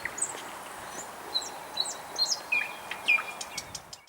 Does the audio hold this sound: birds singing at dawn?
yes